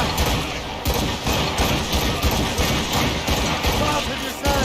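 Ship cannons fire in Assassin's Creed Rogue. Repeated loud booming volleys land in quick succession amid battle noise, with shouted commands over them.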